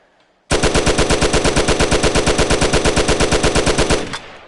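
A rapid-fire gun in a VR video game fires a steady burst of about three seconds, each shot distinct in a fast even rhythm, loud and close, then cuts off abruptly.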